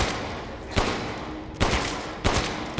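Gunshots from a gun in the Resident Evil Village video game, four sharp, loud reports spaced less than a second apart over a dense background of game noise.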